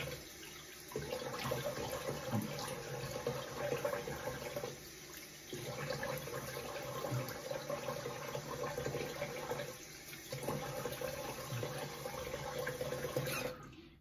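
Water runs from a tap in steady stretches while a vintage Schick injector razor is rinsed, a soft continuous splash broken by short pauses, with no talk.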